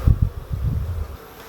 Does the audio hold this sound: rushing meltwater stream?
no